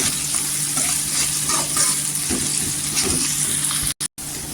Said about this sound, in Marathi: इथे मी 1 कांदा चिरून टाकलेला आहे. मोठाच कांदा आहे आणि कांदा पण इथे सॉफ्ट झाला पाहिजे.